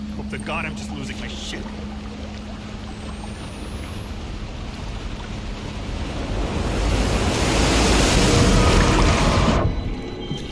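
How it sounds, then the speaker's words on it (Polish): Waves wash over a small lake in the horror game Outlast 2, a broad rushing surge that swells loud toward the end and then cuts off abruptly. "Spora fala jak na tak małe jezioro,"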